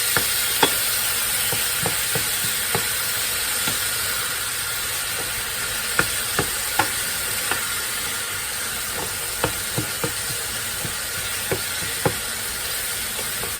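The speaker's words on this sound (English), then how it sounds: "Now our ground beef is browning up really nicely. We're just going to break it up." Ground beef sizzles and browns in a frying pan for stuffed peppers, a steady frying hiss broken by repeated sharp scrapes and taps of a utensil chopping up the meat, close and fairly loud with no talking.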